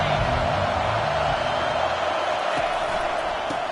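Stadium crowd in a college football video game between Auburn and UCF roars steadily through a big third down, a dense, constant wash of cheering noise filling the whole stretch.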